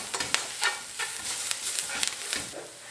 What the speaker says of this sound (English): so I'm going to cook this for a good 3-4 minutes until that flour is nicely cooked